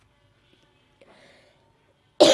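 A single sharp, loud cough bursts out near the end, close to the mic, after a stretch of near silence with faint murmuring.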